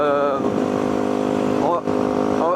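A Fantic 125 motorcycle engine drones steadily while being ridden, a continuous buzzing tone with a brief dip near the end, under someone talking.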